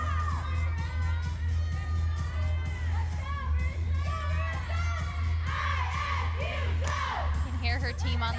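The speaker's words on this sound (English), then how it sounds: "You can hear her team on the side cheering her on. They have a little chant, sounds like." A gymnastics team on the sideline cheers and chants loudly throughout a meet, a dense crowd of voices with shouts and whoops rising and falling continuously, with other voices mixed in.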